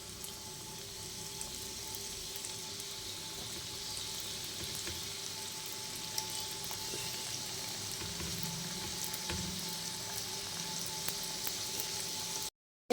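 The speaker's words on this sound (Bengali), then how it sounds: "আমি এইভাবে নেড়ে চেড়ে গজাগুলোকে লাল লাল করে ভেজে নেব।" Goja sweets deep-fry in hot white oil in a wok, giving a steady, even sizzle and bubbling hiss that runs on its own without talk, then stops abruptly at the end.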